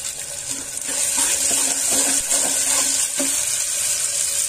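Vegetables such as carrots and field beans sizzle and get stirred in a hot pan while making Malnad-style vegetable pulao, a steady close frying hiss with soft scraping stirs throughout.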